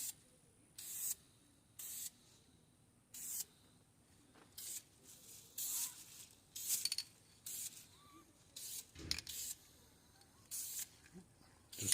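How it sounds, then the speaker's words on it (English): Short bursts of spray primer hiss from an aerosol can onto a brake caliper, about a dozen quick blasts in uneven rhythm with brief pauses between, close and fairly quiet. "You spray it. You just want to spray it like this."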